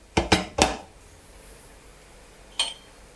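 A spoon knocks against a pot while stirring sweet Lahori degi-style zarda rice, with three quick clanks close together, a pause, then one more clank.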